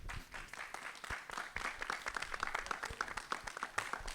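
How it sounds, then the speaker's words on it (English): Audience at a community radio talk clapping for the speakers, scattered individual claps forming a modest, fairly quiet round of applause that continues steadily. "please get a round of applause for our speakers today"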